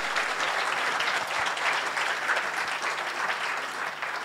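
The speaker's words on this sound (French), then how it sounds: "On peut les applaudir s'il vous plaît." An audience at a live awards event applauds warmly, continuous close clapping with a faint hum underneath, holding steady throughout.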